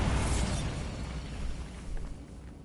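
A Bombarda explosion spell goes off in Hogwarts Legacy, a loud broad blast that opens the clip and rumbles on as a decaying roar over about two and a half seconds, with no talk.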